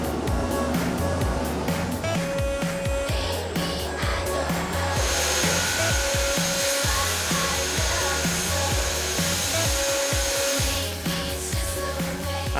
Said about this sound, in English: You might think this is a grinder, but I tell you, that's the grinder in there.